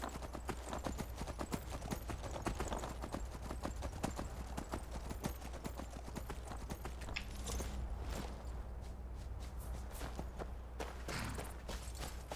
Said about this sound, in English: let me just ride my horse off a bit